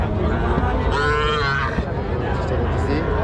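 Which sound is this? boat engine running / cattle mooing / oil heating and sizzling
cattle mooing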